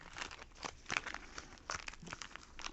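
Plastic sheets of nail polish stickers being handled up close, with crisp crinkling and rustling bursts, a few sharper crackles, quiet and intimate.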